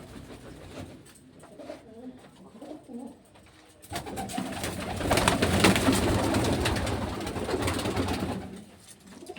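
Pigeons coo softly at first, then a louder burst of rustling and flapping joins in as the birds keep cooing nearby.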